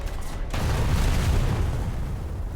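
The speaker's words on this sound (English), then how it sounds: "We'll drop our bombs." Bombs dropped from an aircraft in War Thunder detonate in a sustained, loud low rumble after a sharp onset about half a second in, with no voices.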